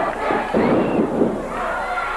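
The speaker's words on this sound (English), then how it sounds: "Listen to this crowd." A wrestling arena crowd at a Houston main event roars and cheers loudly in a dense, sustained wash of noise, swelling briefly midway.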